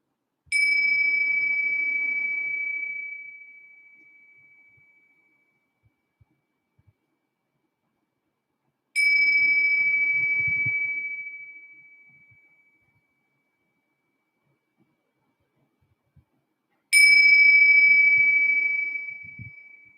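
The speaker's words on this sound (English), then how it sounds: "opening your eyes with the sound of the bell" A meditation bell is struck three times at slow, even intervals, each clear ringing tone fading gradually into silence before the next strike.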